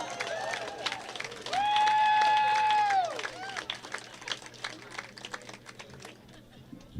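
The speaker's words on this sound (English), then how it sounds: "I ask for rousing applause for them." Applause for faculty and staff at a law school public interest and pro bono graduation reception, a few seconds of dense clapping with a rising whoop or cheer in the middle, fading into scattered claps as a voice begins.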